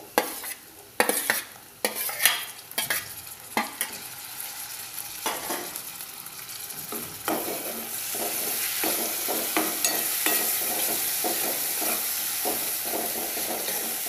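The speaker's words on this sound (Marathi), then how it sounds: "टोमॅटो आपल्याला व्यवस्थित छान असं शिजवून घ्यायचं आहे याच्यामध्ये" Finely chopped tomato and curry leaves go into a hot pan, sharp clatters and stirring scrapes at first, then a steady hiss of frying that builds and settles into continuous sizzling.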